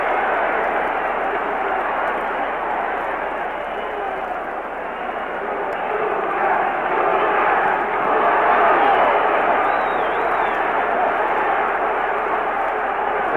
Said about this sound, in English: Crowd urging him on to the knockout.